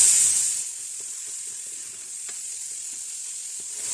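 Minced meat fries in a pan with garlic ginger paste, a loud, dense, steady sizzle close by, louder at first then settling, with faint stirring taps underneath.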